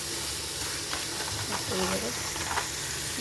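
A fish head fries in hot oil in a pan while cooking lau ghonto, a dense continuous sizzle with occasional stirring scrapes and faint voices in the background.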